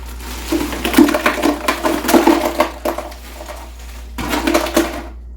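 Ice is crushed by hand for homemade strawberry ice cream, producing close, irregular bursts of crunching and clattering cubes with short pauses between them.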